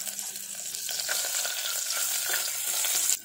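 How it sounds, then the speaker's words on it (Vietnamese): Shallots sizzle and crackle steadily in hot oil in a pot, a close, continuous frying hiss with stirring scrapes throughout and no talking. "đợi dầu sôi thì mình sẽ cho hành tím vào mình phi thơm"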